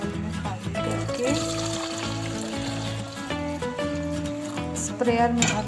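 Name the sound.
strained garlic peel liquid poured into a bottle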